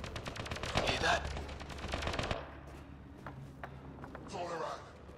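Rapid automatic gunfire bursts in the video game Mass Effect: Andromeda, a dense rattling volley followed by scattered single shots, with voices talking over it.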